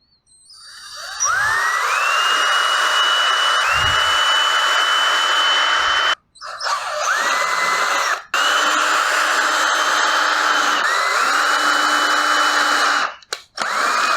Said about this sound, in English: I have a 3/38 drill bit installed on my drill to take care of any pilot holes I need